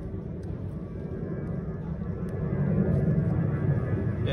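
A propeller-type airplane passes overhead outdoors, a steady low broadband rumble swelling louder toward the end as it nears, continuous with no talk.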